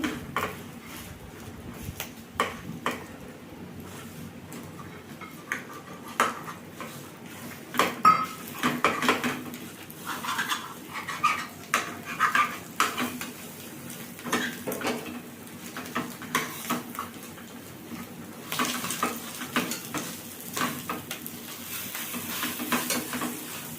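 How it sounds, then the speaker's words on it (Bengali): A utensil scrapes and taps against a pan in irregular bursts while fried bitter gourd sizzles softly underneath, with no talking. "উচ্ছে ভাজাগুলো দিয়ে দিচ্ছি"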